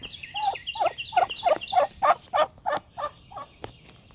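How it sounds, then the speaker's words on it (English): Turkeys on a homestead gobble in a rapid series of about ten loud, close calls, each a rippling burst that falls away before a final fainter gobble. "Turkeys say good morning."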